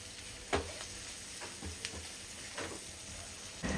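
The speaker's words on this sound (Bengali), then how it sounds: "নাড়িয়ে মশলাটা একটু ভাজা হয়ে যাক" Spices stir-fried in a pan with black pepper give a low, steady sizzle with several soft stirring scrapes and clicks, close and moderately quiet, with no talking.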